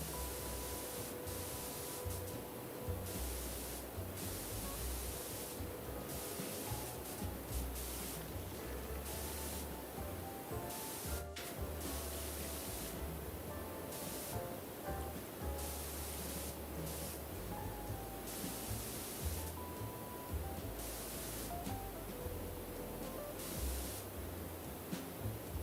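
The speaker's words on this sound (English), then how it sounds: "Again, huge waste of water here. Because I'm just like spraying it off into the sky." A pressure washer sprays water continuously and steadily in the video game PowerWash Simulator, a faint, even hiss running with no speech.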